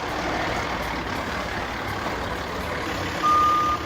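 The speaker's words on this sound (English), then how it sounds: "First off, the trucks drive out." Champlin Public Works trucks head out to flood outdoor ice rinks, a steady broadband engine and road rumble with a thin tonal beep that sounds briefly near the end.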